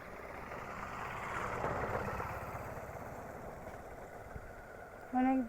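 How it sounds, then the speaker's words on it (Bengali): A motorcycle coming along a village road between vegetable fields, its faint engine hum swelling gradually toward the middle and then easing off, quiet and fairly distant, with a brief beep at the very end. "একটা মোটরসাইকেল আসতেছে।"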